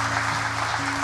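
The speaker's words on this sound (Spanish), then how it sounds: "Y la iglesia le aplaude a aquellos que se han levantado" Church congregation applauding during a service, a steady wash of hand claps under organ or keyboard tones, fairly loud and continuous for about a second.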